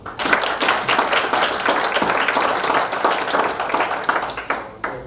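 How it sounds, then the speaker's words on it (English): An audience at a Frayser community gathering breaks into sustained applause for the school superintendent. Dense, steady clapping fills the whole stretch, loud and close, and tapers slightly at the very end. "please give a round of applause to our Superintendent, Hopson."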